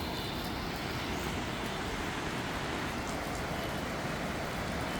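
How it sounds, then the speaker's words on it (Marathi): Heavy rain on a Mumbai street: a dense, steady hiss of downpour fills the scene evenly, constant and broadband with no breaks and no voices. "पाऊस आलेला आहे बघा"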